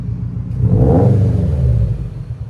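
A 2015 Subaru WRX STI with a 2.5L turbo engine and straight-pipe exhaust is revved once, a loud, deep rumbling exhaust note that swells and holds briefly before easing back.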